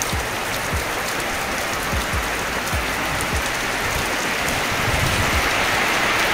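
Steady rain falls on a two-storey poultry house in Riau, a constant dense hiss with occasional louder drops.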